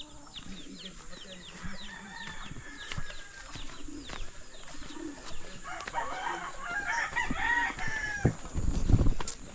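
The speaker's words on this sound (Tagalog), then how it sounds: "Yan yung mga manok ni Kuya Beron" Chickens at a small mountain farm crow and call alongside other birds, with several crows rising through steady background chatter and a louder burst near the end.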